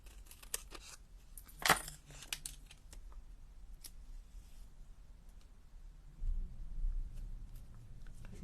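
Scissors snip through card for card making, a few sharp crisp cuts early on, one louder snap, then quiet rustling and low handling noise; close and fairly faint, with no talking.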